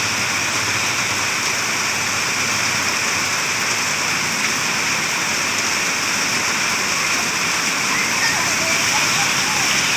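Heavy evening rain falls in Rangsit, a steady, dense hiss of downpour and splashing water that stays loud and unbroken throughout.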